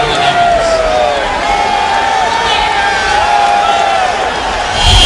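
A large football stadium crowd in Orlando at an XFL game, a steady loud roar with rising whoops and cheers, continuous throughout with a broadcaster's voice faintly over it.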